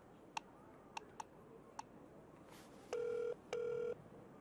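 A telephone rings in two long electronic trills, preceded by a few sharp ticks, set against a quiet room in a Vietnamese-dubbed TVB drama.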